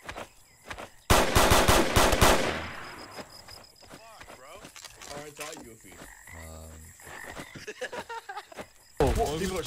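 Gunfire rings out in the video game Trouble in Terrorist Town: loud rapid bursts open and close the stretch, while voices talk and shout in between.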